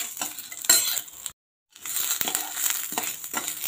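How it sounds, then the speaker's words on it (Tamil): Urad dal dry-roasting in a pan with a little oil, soft crackling sizzle with scraping and stirring of a utensil, close and steady, with a brief silent gap midway. "இப்போ நம்ம உளுந்தை சேர்த்துக்கலாம். இதை நல்லா வறுத்துக்கலாங்க."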